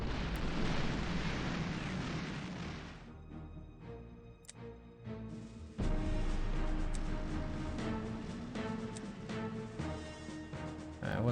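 Artillery fire in the wartime strategy game Panzer General II, a loud booming blast with a long rumbling tail, followed by further heavy thuds and crackling impacts over sustained battle noise.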